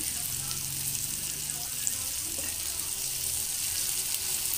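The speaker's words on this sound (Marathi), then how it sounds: "सतत तिला चमच्याने हलवत राहायचं आहे" Salted cluster beans frying in hot oil, a steady close hiss and crackle with occasional light scrapes as a spoon stirs them.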